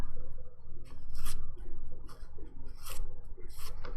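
A nail file rasps rhythmically around the edges of dip powder nails while they are shaped, close and crisp, in repeated short strokes of about half a second each, with no voices.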